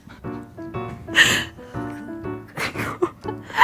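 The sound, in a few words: voice imitating a friend's unusual sneeze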